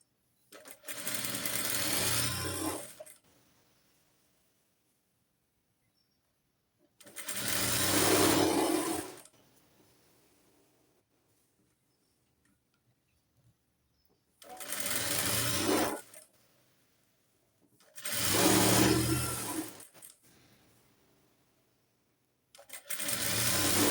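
An electric sewing machine stitches the hem of a flared skirt in five separate bursts of rapid, close whirring, each lasting a couple of seconds with near-silent pauses between them.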